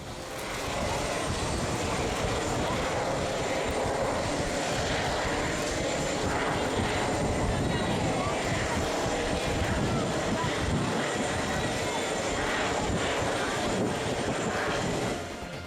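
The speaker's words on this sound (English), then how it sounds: "the next plane was a Lufthansa A380 from Munich." A Lufthansa Airbus A380 jet from Munich roars past in a loud, sustained, broadband rush that holds steady for about fifteen seconds before easing off at the end. The sound is close and continuous, with no pauses.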